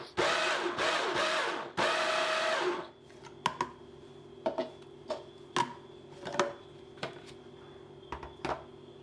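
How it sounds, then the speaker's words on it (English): A food processor pulses flour, sugar and salt in a few loud whirring bursts over the first three seconds, then falls quiet apart from a series of light, sharp ticks and taps. "we will put the flour and the sugar and a pinch of salt in a food processor"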